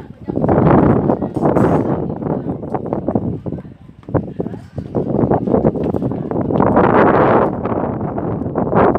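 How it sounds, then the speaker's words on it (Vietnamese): Strong wind buffets the microphone at a mountain pass lookout on Ô Quy Hồ pass, a loud, rumbling roar that surges and dips almost without a break, with someone speaking over it. "Trên này hiện tại bây giờ gió rất là to."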